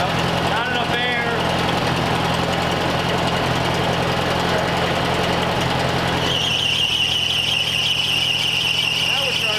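A 1939 Mercury engine idles with a steady low rumble and uneven knocking pulses, running continuously up close with a brighter mechanical whine joining near the end.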